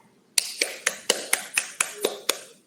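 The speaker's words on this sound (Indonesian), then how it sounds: "Kita kasih tepuk tangan ya" A classroom claps in unison, nine sharp, evenly spaced claps in a steady rhythm, close and fairly loud, with quiet pauses between each clap.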